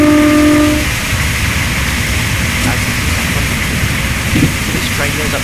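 Class 365 electric multiple unit in Train Simulator 2017 running on the Great Northern line from Kings Cross to Peterborough, a steady rumbling rail drone with a brief tonal horn-like note at the start and faint clicks later.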